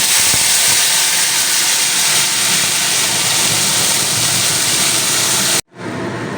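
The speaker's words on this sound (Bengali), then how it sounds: "এবারে আমি মশলাটা তেলের মধ্যে কিছুক্ষণ সময় নিয়ে বন্ধুরা খুব ভালো করে কষিয়ে নেব" Spice masala frying in hot oil for vegetarian ghugni gives a loud, continuous close sizzle and hiss that stops abruptly near the end, then returns more quietly, with no talking.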